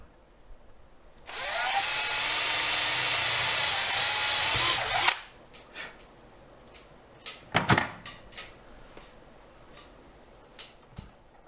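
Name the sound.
drilling holes in a wooden wheel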